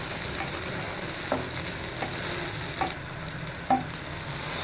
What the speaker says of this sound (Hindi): मिक्सचर डालने के बाद मैं इसे अच्छी तरह मिक्सअप कर लूँगी।